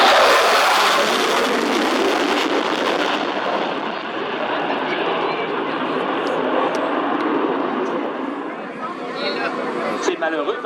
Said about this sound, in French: il vient d'en mettre les afterburners, on le voit pas bien